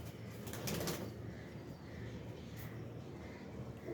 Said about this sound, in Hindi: ठीक है, ये पुराने कबूतर है